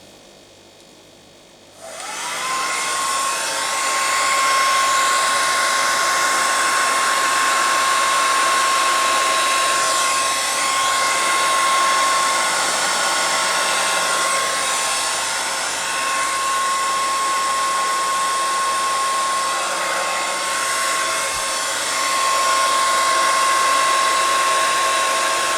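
A blower dries paint on a surface. It starts abruptly after a short quiet moment, then roars as a loud, steady, close whine with a sustained tone that shifts slightly as the angle changes. No one speaks.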